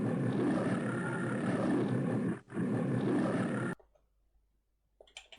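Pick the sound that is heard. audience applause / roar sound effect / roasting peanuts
roar sound effect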